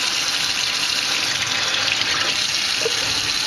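Cold water runs steadily from a kitchen tap while crappie fillets are rinsed, a continuous close, loud hiss and splash with no talking.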